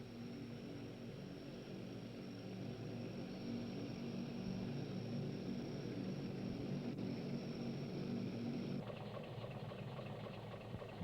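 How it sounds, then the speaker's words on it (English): A Hercules C-130 propeller aircraft at Williams Field near Scott Base, Antarctica, gives a steady droning engine roar with a constant whine, loud and continuous throughout, shifting slightly in tone near the end. "Hercules C-130 aircraft are also used to transport personnel between New Zealand and Antarctica."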